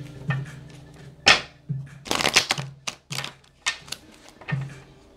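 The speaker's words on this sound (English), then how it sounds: "Three more shuffles." Tarot cards are shuffled by hand in a series of sharp riffling bursts and soft slaps, irregular and close, with a faint low hum underneath and no speech.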